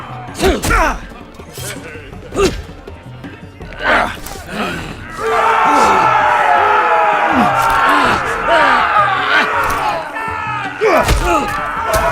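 An arena crowd in the Game of Thrones Telltale video game breaks into a sustained, loud roar of cheering after several heavy thuds and slams, with a few more impacts cutting through the noise.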